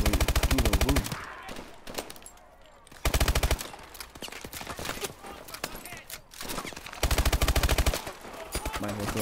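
Call of Duty Advanced Warfare gunfire comes in three loud bursts of rapid machine-gun fire separated by quieter stretches of battle noise, with someone talking between bursts.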